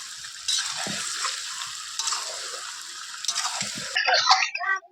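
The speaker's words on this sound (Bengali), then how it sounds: "কিছুক্ষণ ধরে মাংসটা কষিয়ে নেব" Mutton and potatoes are stir-fried in a pan, giving a steady sizzle and frying hiss with scraping and stirring noises, and a brief run of water near the end.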